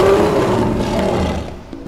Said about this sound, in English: Give a roar, Mr. Lion.